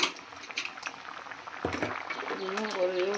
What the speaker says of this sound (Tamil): இப்போ புளி தண்ணி ஊற்றிக்கலாம்.